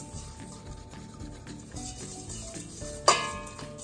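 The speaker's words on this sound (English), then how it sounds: "Using your whisk, we're just gonna whisk this together so that there's no flour or sugar clumps" Dry flour, sugar and salt are whisked together in a bowl, giving a steady rhythmic stirring and scraping of the whisk against the bowl with a sharp clink near the end, close and fairly quiet, with no talking.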